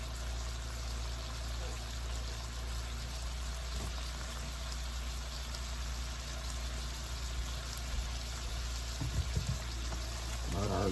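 Honey garlic lime shrimp sauté in a pan with a steady, faint sizzle running throughout, a few soft clinks and stirring noises near the end.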